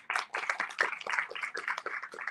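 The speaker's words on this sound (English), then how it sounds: "Let's give another round of applause to Ishan and Hao Xiang." Applause after a sharing session, a short patter of a modest group clapping, fairly faint and steady throughout.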